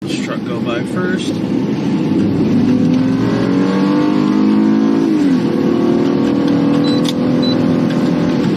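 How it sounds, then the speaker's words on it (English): A truck rolls past on a Korean street, its engine rising and falling as it goes by, loud and close, with a voice talking over part of it. "gotta let this truck go by first"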